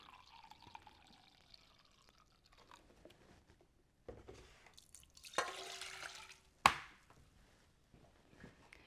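White vinegar is poured into a measuring cup for pickling eggs, a quiet, close trickle with a few soft clinks and taps in an otherwise hushed kitchen.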